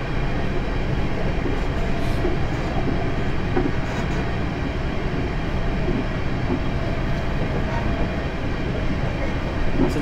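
Steady rumble of a South Western Railway Class 707 electric train running in Train Simulator 2020, with continuous low wheel and motor noise and faint rhythmic rail clatter throughout, no voices.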